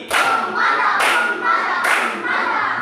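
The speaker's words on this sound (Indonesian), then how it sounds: "mari kita berikan tepuk mantap buat dia" Crowd applause from students in a classroom in three swelling waves, dense and loud, with no speech.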